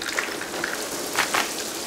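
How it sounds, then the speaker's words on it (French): Rain falls at night over New York, a steady close hiss of drops spattering on surfaces with a few brief louder splashes, alone without voices. "Il pleut ce soir-là sur New York."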